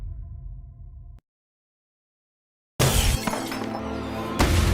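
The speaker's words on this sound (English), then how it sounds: "a teapot on the table suddenly moved and fell to the floor, shattering into pieces" A teapot falls to the floor and shatters into pieces, a loud sudden crash of breaking ceramic after a moment of silence, heard alone without talk.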